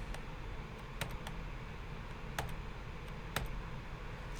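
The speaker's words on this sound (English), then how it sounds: "if I hit the backslash key on my keyboard" Scattered sharp clicks of keys being struck on a computer keyboard, including the backslash key, a handful of isolated taps at irregular intervals over a faint steady background hiss.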